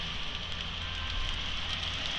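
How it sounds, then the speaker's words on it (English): Pouring rain while walking across town in Lake Placid, heard as a steady, dense hiss of drops hitting the ground with a low outdoor rumble underneath and no voices. "Now I'm walking back across town in the pouring rain."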